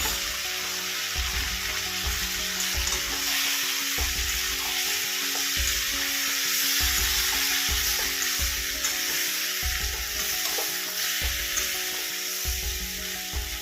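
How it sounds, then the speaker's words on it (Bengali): Spice paste with fried cauliflower and potato sautéing in a pan: a constant hissing sizzle under regular, rhythmic stirring strokes that scrape and thud roughly every second, close and fairly loud, no speech. "এবার আমি যে মশলার পেস্টটা রেখেছিলাম সেটা দিয়ে দিলাম আর ভেজে রাখা ফুলকপিগুলো দিয়ে দিলাম তাহলে আমরা ফুলকপি আলু একসাথে কষানো হোক"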